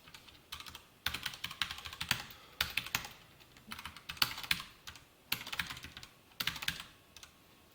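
HTML code is typed on a computer keyboard in quiet, closely miked bursts of rapid key clicks, separated by short silences.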